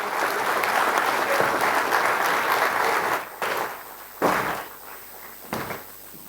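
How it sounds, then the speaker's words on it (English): Audience applause at a valedictory and keynote address by the Chief Justice of India, steady and dense for about three seconds, then trailing off into a few scattered claps and thuds. "May I request the participants to give a big round of applause"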